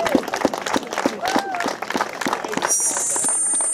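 A crowd applauds at a public gathering, with scattered sharp claps mixed with voices and cheering, followed by a brief high whistle near the end.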